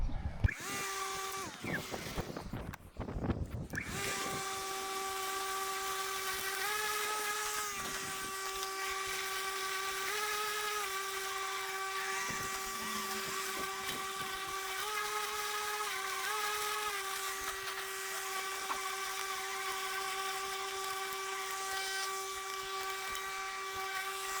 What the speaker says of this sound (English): there we are with our second mower and our first mow